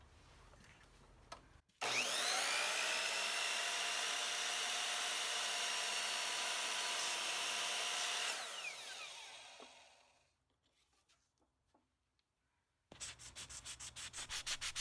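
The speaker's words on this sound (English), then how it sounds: "I'm going to use the chop saw to make the cut" A chop saw whines loudly as it cuts through a piece of wood for a homemade soap cutter, holding a steady high-pitched buzz for several seconds before spinning down into quiet, then starting up again near the end.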